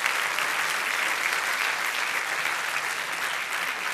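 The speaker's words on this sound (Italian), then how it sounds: "un applauso" Audience applause rises for the Red Cross volunteers at an Italian live show, with close, dense clapping that stays even and unbroken for a few seconds and no voices heard over it.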